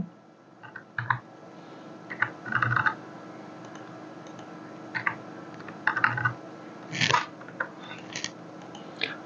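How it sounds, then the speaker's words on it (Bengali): Salary figures go into an Excel sheet on a computer keyboard as short clusters of close key clicks, separated by pauses over a faint steady room hum. "এখানে যদি আমি সেলারিগুলো লিখি"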